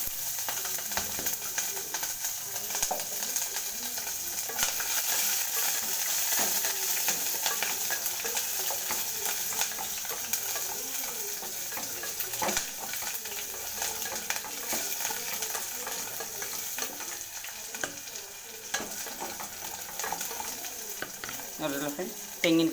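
A tempering of mustard seeds, cumin, chana and urad dal, curry leaves, onion and green chillies sizzles and is stirred in a pan, a steady close fry with scraping clicks and pigeons cooing faintly nearby.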